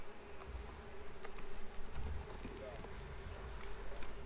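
Honeybees buzz faintly and steadily around an open hive while the brood frames are inspected, with a low rumble and soft handling noises underneath.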